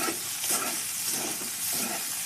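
Beans fry with a tablespoon of chilli powder being stirred in a pan: a steady, bright sizzle with soft scraping swirls of stirring running continuously, close and moderately loud, without talking.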